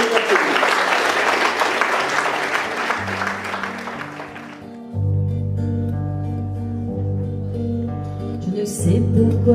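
Guests at a golden wedding celebration in Marly applaud the couple, warm clapping that fades after about four seconds as accordion-style music rises and carries on loudly.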